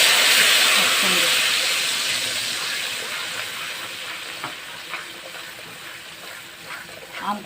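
Nigella seeds and a paste of ground mustard and chili hit hot oil with a loud, close hiss that slowly fades into scattered small crackles and pops.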